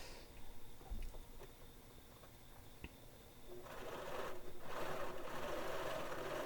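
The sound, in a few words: sewing machine back stitching fabric cover seams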